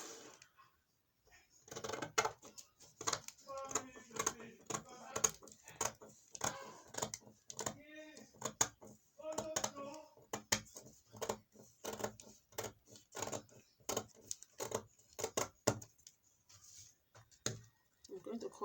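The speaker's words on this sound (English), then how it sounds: "I'm going to cut out these corsets" Scissors snipping through paper corset pattern pieces for a flared corset gown, a quick run of sharp, irregular close cuts and rustles with short pauses, while a voice talks at intervals over the cutting.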